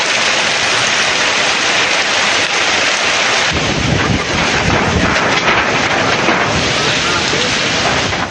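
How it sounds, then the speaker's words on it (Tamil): Heavy rain with strong wind, a loud, dense roar that stays steady throughout and thickens partway through with buffeting gusts and deep rumbling. "பலத்த காற்றுடன் மழை வெளுத்து வாங்கியது"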